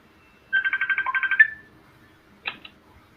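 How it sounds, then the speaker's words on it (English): A telephone is dialed with a quick run of about ten short electronic tones in rapid rhythm, followed by a brief tonal blip, close and clear. "I gotta make a phone call real quick."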